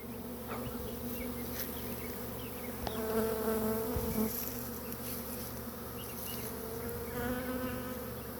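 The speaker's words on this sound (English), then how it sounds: "I got bees on the camera." A dense, steady buzzing of many bees fills the air continuously, with individual insects droning louder as they pass close by.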